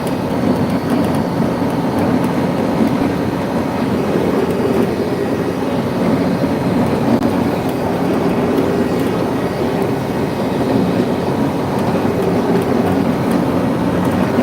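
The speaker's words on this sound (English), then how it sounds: "Single engine on that entire train right there." A long freight train hauled by a single locomotive rolls steadily past, a continuous loud rumble and rattle of cars with no break across the whole stretch.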